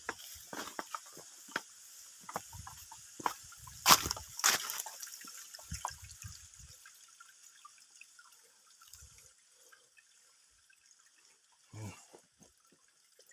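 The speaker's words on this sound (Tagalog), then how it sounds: "Tubig na dyan." A mountain brook flows in shallow trickles and splashes, faint and close, with irregular drips and sloshes scattered across the stretch and a brief louder splash near the end, no talk.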